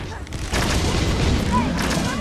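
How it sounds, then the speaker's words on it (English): Fire spell explosions in the video game Dragon's Dogma give a loud, dense rumbling boom that swells and sustains for about two seconds, with crackling blasts layered over it. "the fire spells are fantastic"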